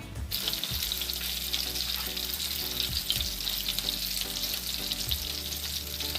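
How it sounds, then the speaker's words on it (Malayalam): Sardines coated in masala fry in hot oil, giving a loud, steady sizzle that runs the whole time, with a few soft low knocks from the pan. "ഇനി ഇതൊന്ന് നന്നായിട്ട് ഫ്രൈ ചെയ്തെടുക്കുക"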